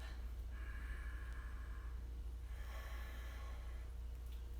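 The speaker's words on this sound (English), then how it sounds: "1 more deep breath." During a yoga session, a slow deep breath is drawn in and then let out through the nose. Two soft, airy swells sit close and quiet over a low steady hum.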